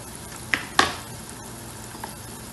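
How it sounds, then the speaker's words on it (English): Chopped tomatoes going into a pan of softened onions for chicken stew, a soft sizzle and frying hiss under two sharp clinks of a utensil against the pot, close and steady, no voices. "i'm going to add the tomatoes"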